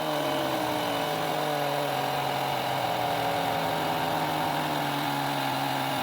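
An Etenwolf S6 portable air compressor runs steadily while inflating a car tire from about 11 to 35 psi, giving a loud, even motor drone with a constant hum and no break.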